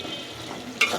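Masala being stirred and fried in a pan for a koi fish curry with Malabar spinach gives a soft sizzle, then a brief sharp scrape of the spoon near the end.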